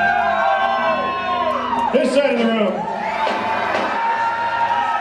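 A crowd yells loudly in a make-noise contest at a live event, a sustained wall of shouting and cheering over five seconds while someone talks over the din.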